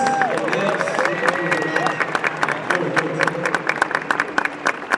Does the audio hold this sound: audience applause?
yes